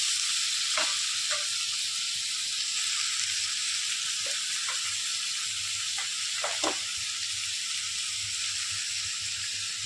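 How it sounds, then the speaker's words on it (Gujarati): Grated bottle gourd frying in hot ghee for a chocolate bottle gourd halwa, giving a loud, steady sizzle throughout with a few sharp pops and stirring clicks, no talking. "હવે ઘી આપણું એકદમ બરોબર ગરમ થઈ ગયું છે. હવે તેમાં ખમણેલી દૂધી નાખીશું."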